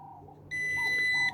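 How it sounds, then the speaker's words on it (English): A Nokta Makro Pulsedive pinpointer metal detector gives a single high electronic beep, loud and steady for nearly a second, then cuts off abruptly, over a faint background hum. "hold the 2 until we hear a beep"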